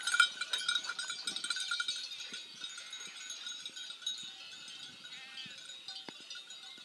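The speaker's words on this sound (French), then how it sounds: "qui surveillent un troupeau de brebis et de chèvres." A flock of sheep and goats bleat faintly at a distance amid soft rustling and the occasional clink of a bell, with no voices.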